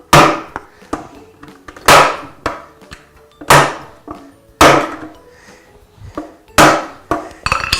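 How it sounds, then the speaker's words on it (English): A hammer knocks a small piece of wood to seat a lid onto a 5-gallon food storage bucket, about a dozen sharp woody knocks at uneven intervals, close and loud with short decays, no talking. "just simply use a hammer and a little piece of wood and just pop it on"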